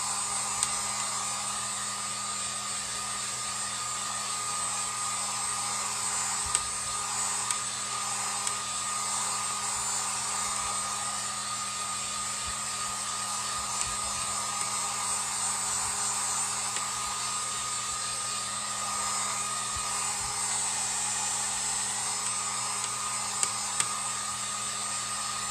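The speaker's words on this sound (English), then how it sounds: "this is a 2 heat setting heat gun, and I use a lower heat setting." A continuous blowing hiss with a steady motor hum from a two-setting heat gun on its lower setting runs unbroken throughout, with faint clicks here and there.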